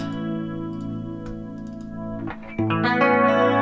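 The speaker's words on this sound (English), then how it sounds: "the clean sound is, because this guitar has humbuckers, there's this corrective parametric EQ to kind of make it sound chimey and single coily" An electric guitar with humbuckers plays a clean tone with no corrective EQ, a sustained chord ringing, then a quick strum of new notes near the end, close and unaccompanied.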